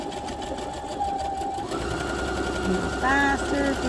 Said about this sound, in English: We're just going to press our presser foot, and it's just going to do everything we want it to do.